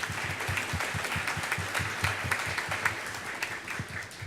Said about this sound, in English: Give Dr. Baker a round of applause.